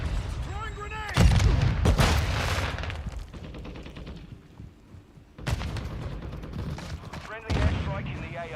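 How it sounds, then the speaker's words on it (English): Call of Duty Modern Warfare II combat: a loud grenade blast and bursts of gunfire crash in twice amid game radio chatter, with a quieter stretch of rumble and scattered shots between them. "Grenade. Throwing grenade."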